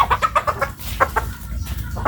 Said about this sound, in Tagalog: karon magdakop pipila ka buking ni atong mga manok